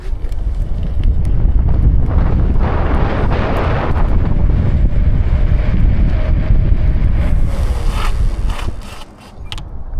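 Segway ZT3 Pro electric scooter launching without boost, heard as loud, rushing wind buffeting the microphone with rumbling road noise throughout, easing briefly near the end.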